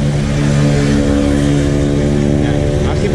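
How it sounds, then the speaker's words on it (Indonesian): Loud, close motorcycle with a noisy aftermarket exhaust, holding a steady rumbling rev with strong low harmonics throughout and no speech. "Musimnya knalpot berisik gitu."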